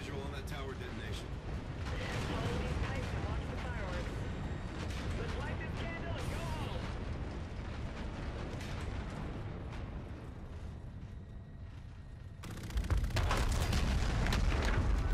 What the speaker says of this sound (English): Let's get visual on that tower detonation.